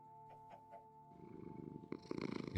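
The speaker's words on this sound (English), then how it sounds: "You start to purr right away." A house cat purrs softly and close up after being handed salmon for breakfast. A faint hum sits underneath, then broader rustling noise takes over toward the end.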